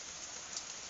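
Rain falls outside in a steady, faint broadband hiss with a few small drop patters, heard indoors and muffled.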